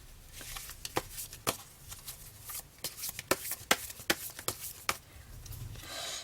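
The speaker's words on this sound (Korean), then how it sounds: "시기에 관한 카드 한번 뽑아볼까요?" Tarot cards being shuffled by hand, with a quick series of crisp riffling snaps and soft slides, close and clear against a quiet room.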